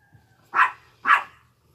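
A female dog barks twice in quick succession outdoors, two short, moderately loud barks against a quiet background.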